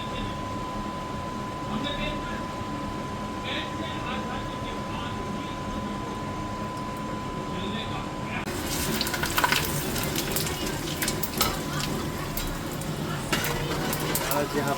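Onions and garlic frying in a pan for Bihari-style mutton, a steady low sizzle throughout that grows louder and brighter partway through, with occasional stirring scrapes and no talk.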